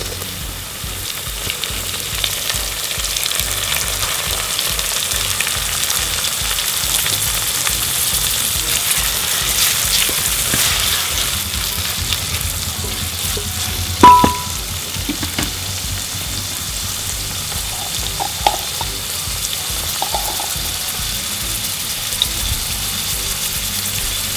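Tomatoes frying in a pan: a steady, close sizzle with a few faint knocks and stirring sounds.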